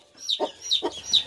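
A hen clucks in short agitated bursts while being caught on a farm, three quick close calls in a row.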